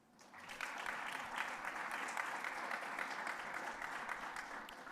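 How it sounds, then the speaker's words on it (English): At a recruit class graduation, the crowd applauds families and supporters, swelling quickly from quiet into a steady, moderately loud wash of clapping that continues to the end. "I want you guys to give them a round of applause."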